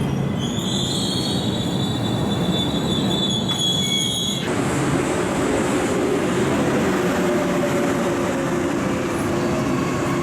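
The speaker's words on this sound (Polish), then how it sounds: "No to i my korzystamy z włoskich kolei. Jedziemy do Rimini." An Italian passenger train runs on rails bound for Rimini, with a steady loud rumble and clatter of wheels and a high metallic squeal for the first few seconds before fading into continuous rolling noise.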